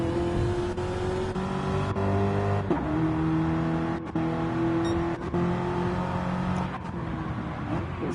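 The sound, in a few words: NASCAR race car engine on track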